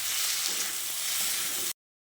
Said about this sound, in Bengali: তারপর কচু আর ডালটাকে আরও 2 মিনিট মতো কষিয়ে নিতে হবে।